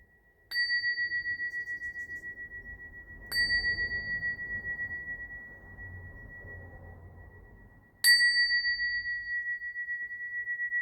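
Three bright bell strikes ring out alone, each a sharp metallic chime that sustains and slowly fades, spaced a few seconds apart.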